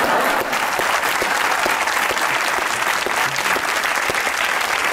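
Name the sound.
audience applause for Quaid-e-Azam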